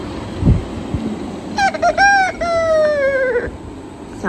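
A rooster crows once nearby in Istanbul at daybreak, a loud, drawn-out cry lasting about two seconds that rises and then falls. A few faint bumps come first, and wind sounds sit in the background.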